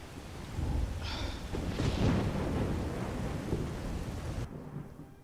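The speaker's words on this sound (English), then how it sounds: "It really do be raining" Steady rain with rolling thunder in the Skyrim video game, a continuous wash of downpour with low rumbles throughout that drops away abruptly near the end.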